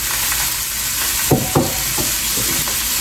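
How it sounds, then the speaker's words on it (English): Meat browning in a pan for marinara sauce, a steady loud sizzle and hiss throughout, with a few brief scrapes or clinks in the middle. "we're getting that good brownness on the meat, caramelizing it"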